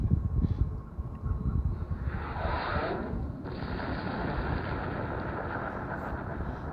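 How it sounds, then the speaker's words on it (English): Rockets striking targets in the Axis & Allies 2004 strategy game: heavy, rumbling blasts that swell through a brief rushing burst, then settle into a continuous low roar. "So, here come the rockets, baby."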